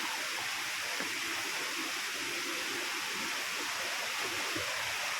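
Steady rushing water of a river flowing, a constant broad wash of sound with no pauses.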